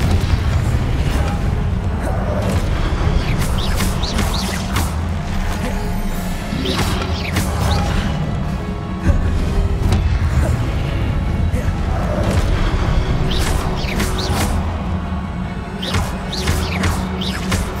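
Confringo blasting spells in Hogwarts Legacy on PS5 set off a dense, continuous barrage of heavy booms and crashing explosions, loud and close, rolling one into the next with no pause throughout.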